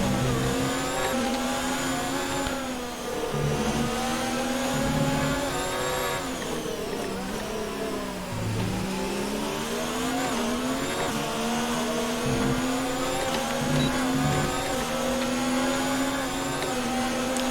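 Formula 1 race car engine in the F1 2019 racing game, a continuous high-pitched whine that rises and falls with gear changes and throttle, loud and steady for the whole stretch with no talking.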